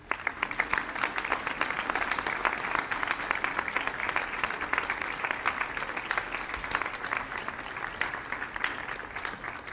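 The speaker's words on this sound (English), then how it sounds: "let's give them a big round of applause" Sustained applause from a crowd, dense steady clapping filling the whole stretch at a fairly even level.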